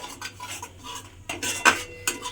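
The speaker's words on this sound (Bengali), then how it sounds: "টক দইটা খুব ভালোভাবে মিশিয়ে নিতে হবে" A spoon stirring sour yogurt in a bowl, scraping and clinking lightly in an irregular rhythm, close and fairly quiet, with no talking, while a spiced potato curry is being prepared.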